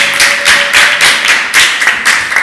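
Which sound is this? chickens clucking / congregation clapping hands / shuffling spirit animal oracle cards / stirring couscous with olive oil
congregation clapping hands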